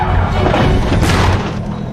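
A Lamborghini crashes into a fence after sliding on a wet road, giving a single loud heavy boom and crunching impact that fades out over about two seconds.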